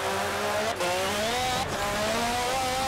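A race car engine in Forza Motorsport 7 drones steadily as the driver brakes into a corner, pitch sliding with two brief dips at the downshifts, loud and close with no talking.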